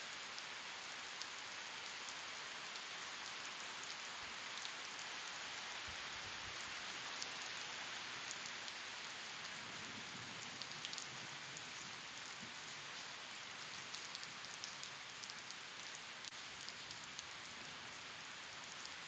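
Heavy rain pours steadily during a windy overnight storm, a dense unbroken hiss heard alone with no voices; any thunder stays faint and buried in the downpour.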